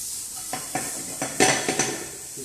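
Green, red and yellow capsicum with tomato julienne sautéing in a pan, with several sharp clinks and scrapes of a utensil stirring against the pan over a soft background hiss, no talk.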